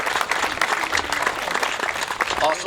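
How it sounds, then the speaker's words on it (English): An audience at a field naming and tribute ceremony claps for the Booster Club, a brief, steady patter of applause heard at moderate distance. "So let's give them a round of applause."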